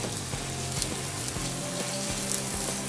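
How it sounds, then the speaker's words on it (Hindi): Onion frying in melted white butter in a pot for creamy spinach soup, a dense, even sizzle with faint bubbling and a few soft knocks, heard alone at close range for a short stretch. "प्याज को और बटर को हम थोड़ा सा भून लेंगे।"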